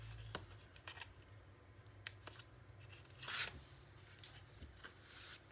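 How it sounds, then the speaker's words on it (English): Faint, quiet tearing and peeling of tape from a craft panel, with scattered small rips and one longer pull midway. "now I can take the tape off"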